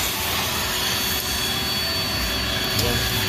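A Rainbow vacuum cleaner runs with a steady, loud broadband whoosh and whine while cleaning the inside of a 2020 Dodge Caravan, holding constant throughout with faint voices underneath.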